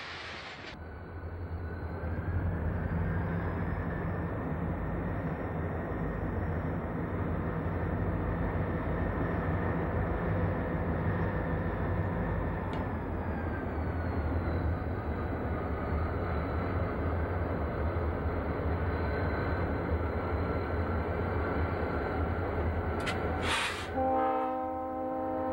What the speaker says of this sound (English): The next train is a Delaware and Hudson train with a pair of former